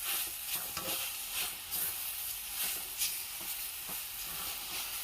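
A mixture is stirred in a pan with a sprinkling of ghee, a soft continuous sizzle broken by regular scraping strokes of the spoon, close and fairly quiet, with no voices.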